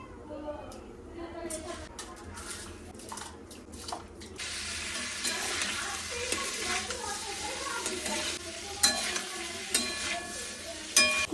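Overly soft potatoes fry in a pan with a steady sizzle that swells after a few seconds, joined by stirring clatter and scrapes, while a person talks over the cooking.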